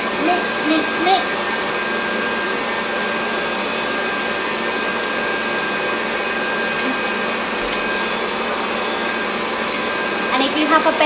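An electric mixer whirs continuously through a chocolate mixture for a Marquesa de chocolate. The motor drone is loud and constant for the whole stretch, with only small shifts in pitch.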